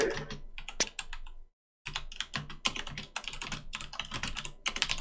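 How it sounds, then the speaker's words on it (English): Rapid typing on a computer keyboard, close and fairly loud, with dense irregular clicks and a brief pause after about a second and a half. No voices. "I am typing that out right now, as you can probably hear."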